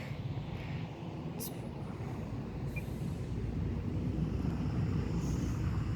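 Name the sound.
Air Tractor aircraft flying by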